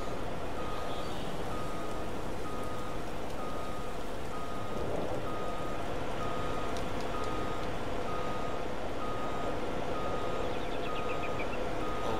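Truck reversing beeps while backing up a trailer in Farming Simulator 22, a steady repeating electronic beep over a low engine hum and rain-like hiss throughout, with no talking.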